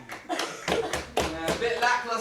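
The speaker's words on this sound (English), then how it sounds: "Some clapping, that table got banged a bit" A few bursts of clapping mixed with thuds of a table being banged, coming in uneven clusters from a small group, with talk and chatter running underneath.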